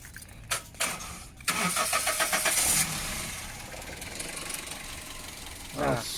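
A Toyota Etios Liva, formerly a taxi, cranks and starts right after a new battery is fitted, with a loud burst of starter noise followed by a steady idle; a voice speaks briefly near the end.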